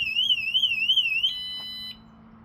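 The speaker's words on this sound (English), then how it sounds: "what I just set is an alarm" An anti-theft alarm on a Breeze Pro trike sounds loudly and alone, first a rapid warbling siren-like tone, then a few steady electronic beeps before cutting off.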